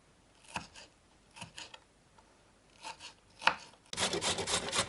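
A carrot is rubbed over a grater while making a cabbage pie filling: soft scraping strokes come at irregular intervals, followed by a louder, continuous rasping run of grating.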